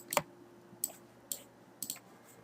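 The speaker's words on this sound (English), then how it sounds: "you can double click on the names here in the outliner" A computer mouse clicks sharply in a quiet room while a user renames objects in the Maya outliner, four distinct close clicks spaced roughly half a second apart.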